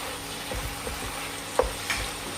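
Garam masala, coriander powder and black pepper powder being stirred into a dish in a frying pan for malai chicken give a soft sizzle with a few light spoon scrapes and taps, close by and without talk.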